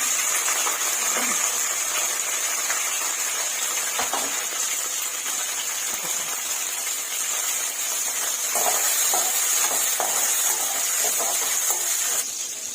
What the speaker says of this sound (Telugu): ఈ ఆయిల్లో పచ్చిమిరపకాయలు వేయించుకున్నాం